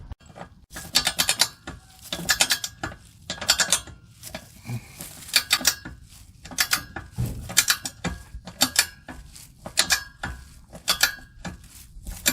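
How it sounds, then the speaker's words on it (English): Torque wrench ratcheting bolts tight on a Nissan Frontier nerf bar, rapid close metallic clicks in repeated bursts separated by brief pauses, with no talking. "we just crank this down to 15 foot-pounds of torque. Do that on every bolt."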